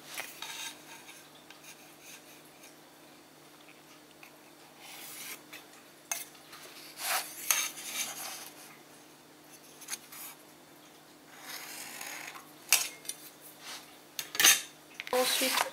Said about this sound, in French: Ensuite je vais couper.